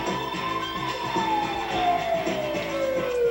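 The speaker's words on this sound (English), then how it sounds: "You hit the siren and pull the idiot over." A police siren wails loudly, its pitch sliding slowly downward over a rhythmic engine rumble.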